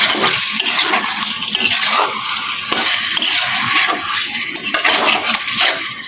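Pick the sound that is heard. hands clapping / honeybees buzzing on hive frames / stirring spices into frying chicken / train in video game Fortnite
stirring spices into frying chicken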